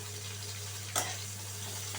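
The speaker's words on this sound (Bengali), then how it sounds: "পেঁয়াজটা হালকা ব্রাউন করে আমি এখানে ভেজে নিচ্ছি" Chopped onion fries in a pan toward light brown, a steady close sizzle with one brief sharp stir or clink partway through and no talking.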